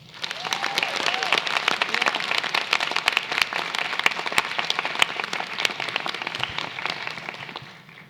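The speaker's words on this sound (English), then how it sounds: "Let's give the Asian Student Planning Committee a round of applause." A round of applause from the audience at an Asian student celebration, dense and sustained clapping at steady loudness throughout, rising quickly at the start and fading out at the end.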